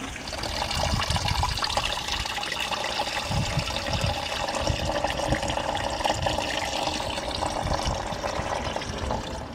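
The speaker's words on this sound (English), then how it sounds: "while that coolant is busy draining away" Coolant draining steadily from a BMW engine during head gasket work, a continuous close splashing and trickling of liquid that holds an even level throughout with no talk.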